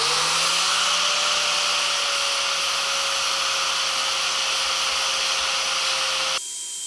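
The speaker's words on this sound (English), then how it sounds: "we're just going to take a flap disc and just grind it all flat" Flap disc on an angle grinder grinding welds flat on a 350Z turbo downpipe, a steady loud high-pitched whine with abrasive rasp that cuts off abruptly just before the end.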